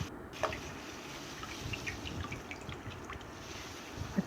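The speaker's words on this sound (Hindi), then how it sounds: "अब इसको हाथों की मदद से दबा दबा कर ठंडे पानी में इसका दूध अलहदा कर लें" Homemade cheese squeezed by hand in cold water, with soft scattered drips and small trickling splashes over a low background hiss, faint and close.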